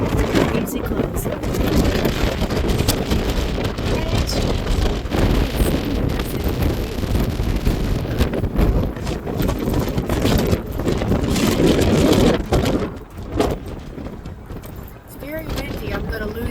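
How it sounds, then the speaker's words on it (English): Strong wind sweeps across the deck of the Carnival Liberty cruise ship, a loud, gusty rumble buffeting the microphone, with voices faintly underneath. "Very windy."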